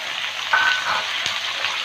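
Fried potato with pumpkin and beans just added crackles in a pan, a dense close sizzle with a brief scrape of stirring partway through.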